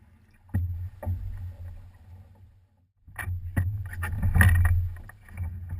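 Paddlers in a big canoe bring it to a stop, paddle blades splashing and churning the water in short bursts with a quiet lull between, fairly close.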